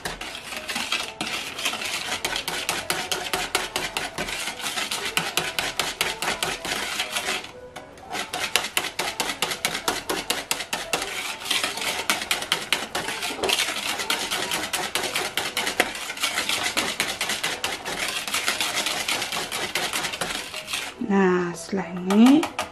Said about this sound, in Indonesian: Pakai pengocokan biasa ya.